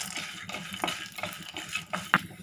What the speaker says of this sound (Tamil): வேர்க்கடலை போட்டு நல்லா ஃப்ரை பண்ணிடலாம்